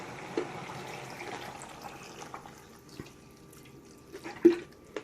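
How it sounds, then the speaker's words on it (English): Water trickles and drips into a Pressure Cooker XL pot for chicken stew, soft splashes and a few louder plops close by against a quiet background. "I'm just going to add the water now"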